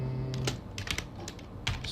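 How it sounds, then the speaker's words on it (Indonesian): A command being typed on a computer keyboard: a short, quiet burst of close, irregular keystroke clicks. "Kemudian saya mungkin akan ketik"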